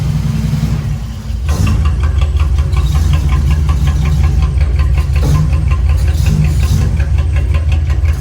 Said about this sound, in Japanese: いい音するよね、この車も。